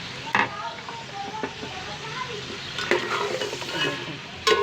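Coarsely ground garlic and ginger sizzle quietly in a pot of mutton pilau while a spoon stirs and scrapes, with a few sharper clinks against the metal; faint voices of people outdoors murmur in the background.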